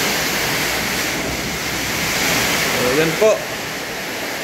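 Heavy rain and strong wind from Typhoon Uwan lash Daet, filling the air with a loud, continuous roaring hiss; a brief spoken phrase comes near the end.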